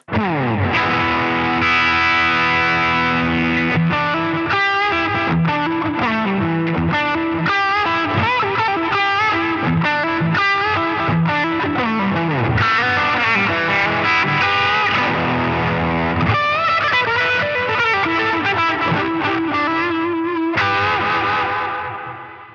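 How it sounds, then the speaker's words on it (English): Electric guitar played through a NUX Atlantic reverb and delay pedal with reverb left on and a 60s-style delay added, a continuous loud run of picked notes and chords trailing echoes and wash, with no talking. "I'm actually going to leave that reverb on now, and I'm going to put a 60s style delay over the top."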